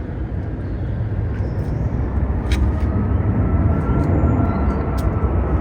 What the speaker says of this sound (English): That's a great big Emirates Airbus A380, if you can see it through the netting.